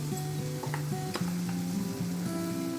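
Pumpkin sabzi with garam masala sizzling and frying in a pan while being stirred, a continuous close, loud hiss with a few soft spoon scrapes and no talk.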